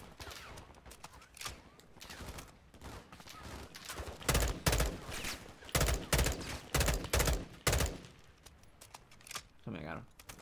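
M4 assault rifle gunfire from Call of Duty: Modern Warfare 2, with bursts of loud, sharp shots coming in clusters between about 4 and 8 seconds, set against quieter combat ambience. A voice talks over part of it.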